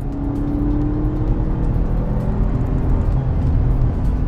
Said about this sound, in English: right there, I'm just giving it half throttle, letting the car run out